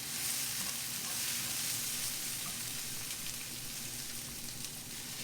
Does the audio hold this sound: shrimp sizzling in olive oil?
yes